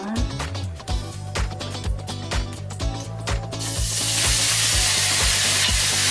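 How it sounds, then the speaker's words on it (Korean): Rhythmic scraping and tapping of a utensil stirring perilla leaves in a pan, then a loud, steady oil sizzle swells up as the leaves fry. "깻잎 넣어서 볶아주면 돼요."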